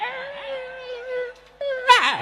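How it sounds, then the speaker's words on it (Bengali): A female dog whimpers in long, high, wavering whines that hold steady and then rise into a sharper yelping cry at the end, close and clear against a quiet background. "এখন মহিলা কুকুর কি কয় শোনেন।"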